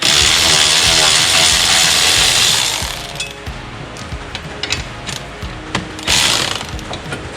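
A power tool rattles hard and loud on a 14mm socket, pulling the foot peg bolt off a Banshee ATV, then cuts to lighter clicks and knocks with a second short burst near the end.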